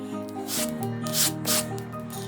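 Wet rubbing of paint off a miniature brick wall, sounding as a close, soft continuous scrubbing with slight swells in intensity over a steady background hum.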